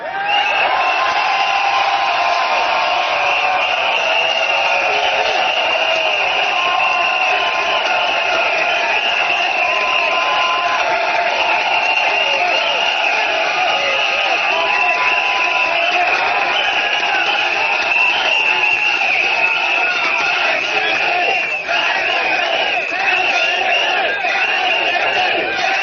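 A large crowd at an SDP political rally for the Holland-Bukit Timah GRC in Singapore's 2015 general election roars and cheers loudly, a dense, unbroken wall of yelling and whooping that holds steady throughout.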